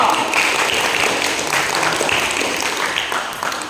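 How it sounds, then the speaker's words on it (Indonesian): A classroom audience applauds a student presentation group, a loud burst of many hands clapping together that tapers off slightly toward the end. "Beri aplaus kepada kelompok 2."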